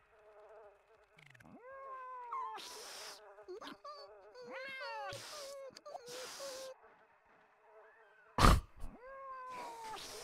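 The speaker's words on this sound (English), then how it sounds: "Wait, it's a cat!" A cat in The Sims 1 video game meows repeatedly, with several drawn-out, whiny calls spaced across the stretch, plus a sharp click-like burst near the end.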